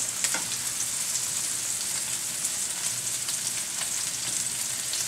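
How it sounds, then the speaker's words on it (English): Steak and onions sizzle steadily in a hot pan, a dense, continuous crackling fry with faint spatters and no talk over it. "When I turn the steak, I'll make sure to get onions underneath it so that some of that will cook into the steak as well."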